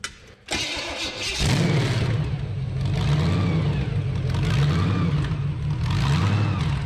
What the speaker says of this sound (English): There's that blower surge